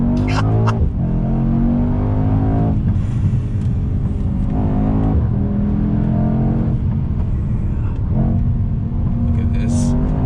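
A 2021 Mercedes-AMG E63 S wagon accelerates hard in first gear, its loud engine note rising steeply, and a voice calls out partway through the surge.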